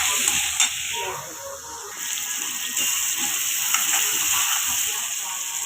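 Chopped onions and tomatoes sizzle steadily in a pan for a dhaba-style palak paneer, a continuous close frying hiss with a few soft stirring clicks and no talking.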